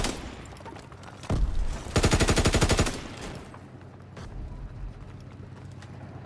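Call of Duty: WWII battlefield gunfire: a heavy thud, then a loud, fast machine-gun burst lasting about a second, followed by scattered quieter shots and rumbling combat noise.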